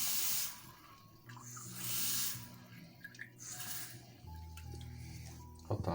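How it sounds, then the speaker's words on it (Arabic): Tap water poured into a container in a home kitchen, a hissing rush that swells and fades in several bursts, with a humming tone beneath and a clink near the end. "حط شوية مي هون"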